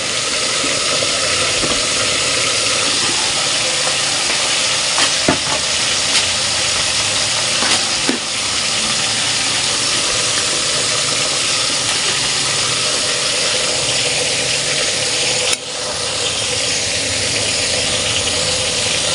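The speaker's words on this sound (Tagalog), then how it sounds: "Ngayon lalagay na po natin yung ating bulaklak ng kalabasa." Squash blossoms frying in a pan, a loud, steady close hiss of sizzling with a few faint stirring knocks and scrapes and no voices.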